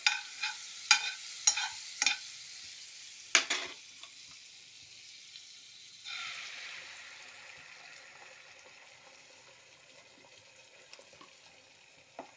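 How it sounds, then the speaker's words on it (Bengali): Egg omelette frying in butter in a pan for a scramble-style dish, with a few sharp stirring knocks early on, then a steady soft sizzle that swells and slowly fades, no talking. "এটা বাটারের মধ্যে দিয়ে একটা ডিমের অমলেট করা হচ্ছে।"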